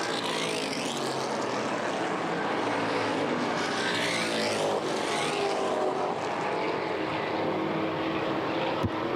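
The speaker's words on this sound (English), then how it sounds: "Hopkins, the big thumper underneath the hood of the 95 car, pulls back ahead" Stock race cars at the Winchester 400 roar steadily past at full throttle, a continuous loud engine drone rising and falling as the pack sweeps by, with no voices.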